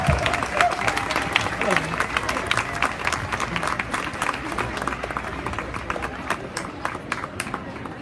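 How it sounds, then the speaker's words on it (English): Audience at a charity lemonade fundraiser event breaking into sustained, dense applause, a steady crowd of clapping hands with some cheering that continues evenly throughout. "So a big thunderous round of applause for the co-executive directors, Alex's parents, Jay and Liz Scott"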